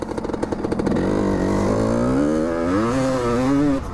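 A 1992 Kawasaki KX-E 250 two-stroke enduro motorcycle engine revs up close and loud, its pitch climbing and wavering steadily with a raspy, buzzing tone.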